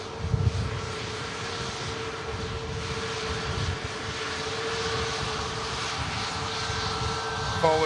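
A Boeing 737 Max sits with its engines running, giving a steady droning whine with a sustained tone over low rumble, and light wind buffeting the microphone at the airfield.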